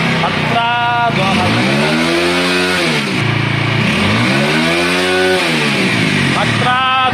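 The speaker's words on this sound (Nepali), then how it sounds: "ल हेर्नुहोस् इन्जिनको साउन्ड पनि खतरा दिइरहेको छ क्या हैन" A TVS Apache RTR 200 4V motorcycle with an engine problem revs hard up and down in repeated swells, loud and close, with someone talking over it.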